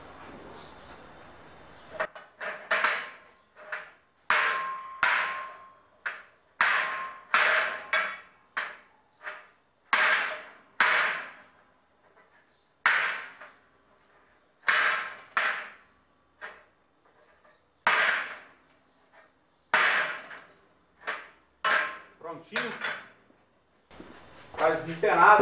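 A hardwood mallet of purple heartwood strikes square metal tubing to straighten it, giving sharp, ringing knocks in irregular bursts, about two dozen blows at varied spacing, close and loud over a quiet background.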